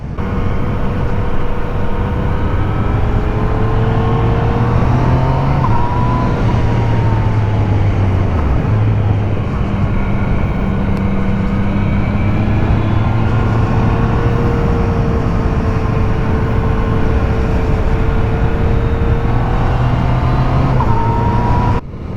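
Engine of a 2020 Yamaha MT-09 motorcycle on a ride, running loud and close, its pitch rising through revs and dipping at quick-shifter gear changes, with steady wind rush beneath and no talk.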